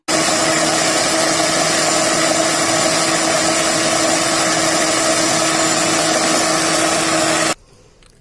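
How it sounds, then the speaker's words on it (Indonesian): Electric blender grinding spices for a tempoyak fish dish, a loud steady whirring drone that runs unbroken for about seven seconds and then cuts off abruptly, no voices. "saya menghaluskannya menggunakan blender"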